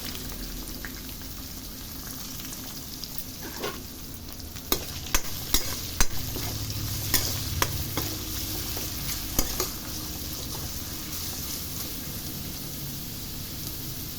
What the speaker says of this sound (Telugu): ఉల్లిపాయ ముక్కలు వేస్తున్నాం.